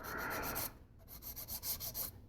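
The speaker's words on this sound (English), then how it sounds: "I'm going to do this really light, since this is a pretty aggressive sandpaper" Coarse sandpaper is rubbed lightly along the leg of a 1/8-scale resin figure, giving close, soft scratchy strokes, one long pass followed by several quicker rhythmic rubs, with no voices.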